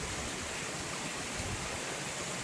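Creek water rushes steadily at Hat Creek Rim on the Pacific Crest Trail, a dense, continuous broadband roar without pause, close and fairly loud, with no voices.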